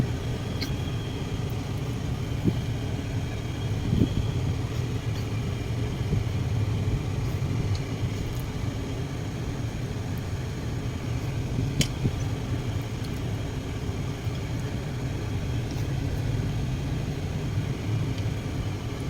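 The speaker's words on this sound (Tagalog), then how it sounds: "Traffic everywhere." Road traffic in Cabanatuan, Nueva Ecija, heard as a continuous low rumble of passing cars and engines, steady and moderately loud throughout, with a few faint knocks and clicks over the drone.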